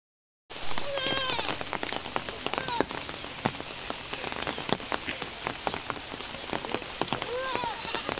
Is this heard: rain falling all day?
yes